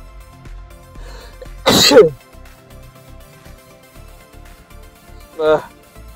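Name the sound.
sneeze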